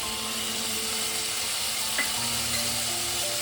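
Ginger-garlic paste with tomato sizzles steadily in a hot pan for a fish and taro curry, a continuous close frying hiss with a single faint scrape of stirring partway through.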